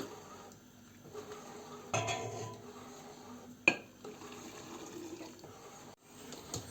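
Hot syrup is poured into glass jars of Paperivka apples with a little citric acid for winter preserving, a soft liquid pour with clinks of a ladle and jar and one sharp knock, close by and with no talking.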